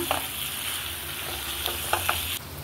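Chicken frying in a pan with fresh coriander, a constant loud sizzle broken by a few clanks as it is stirred, cutting off briefly at the end.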